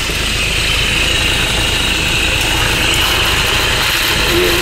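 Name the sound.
Toyota Innova engine starting and idling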